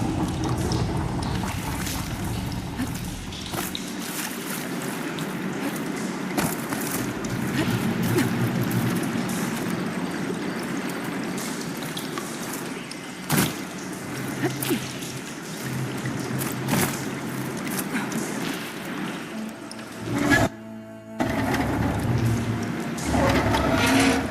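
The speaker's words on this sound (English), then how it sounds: "Aloy, I can hear water in the room again." Water flowing through pipes in the Horizon Forbidden West video game, a continuous rushing, gurgling flow at fairly loud level, with a brief break and clunk near the end before it resumes.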